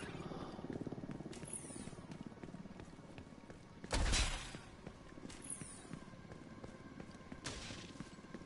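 Helicopter in The Division 2 video game flying off, a broad rushing roar swelling briefly near the middle over a steady ambient game backdrop with scattered thuds and light effects.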